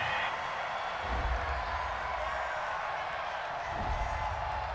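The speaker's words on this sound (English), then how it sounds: "Some boos coming down right now from this home crowd after that call" A home stadium crowd at a Miami Dolphins versus Seattle Seahawks NFL game booing a pass interference call, a broad sustained low roar of disapproval with some swells, heard without talk.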